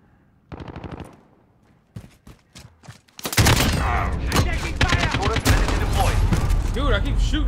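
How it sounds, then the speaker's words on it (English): Rapid automatic gunfire in Call of Duty: Modern Warfare during an online match. A few scattered shots come first, then a loud, sustained, dense burst of fire keeps going to the end. "I keep shooting too high."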